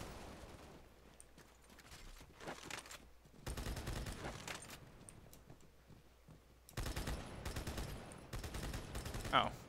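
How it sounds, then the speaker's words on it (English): Turret gunfire in Halo: The Master Chief Collection comes as two long, dense automatic bursts separated by quieter stretches, with scattered shots and faint voices between them. "Someone has a turret."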